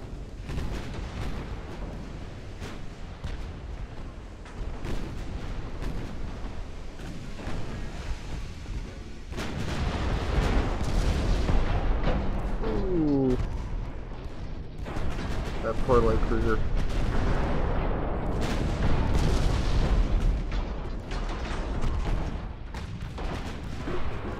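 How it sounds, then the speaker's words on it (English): Torpedo hits and shell explosions strike warships in the naval strategy game Ultimate Admiral Dreadnoughts, producing a dense, continuous stretch of deep booms and rumbling blasts that grows heavier in waves over the long battle. "There's another torpedo hit."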